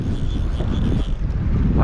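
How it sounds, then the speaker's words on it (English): Wind blowing outdoors at Henry's Lake, a steady low rumble buffeting the microphone for a couple of seconds, with faint talk underneath. "that wind's picking up good"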